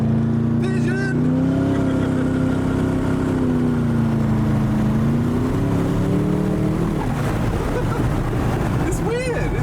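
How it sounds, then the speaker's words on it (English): A Koenigsegg Regera accelerates hard on a racetrack, a loud, steady surging engine note that rises and falls with faint turbo flutter, while people talk over it close by. "It's constant torque. With a bit of turbo flutter"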